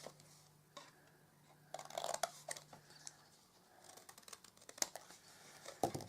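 Scissors snip flaps into card for a hand-painted gift box, giving a quiet hum followed by bursts of close crisp cutting, crunching and rustling, with no talk.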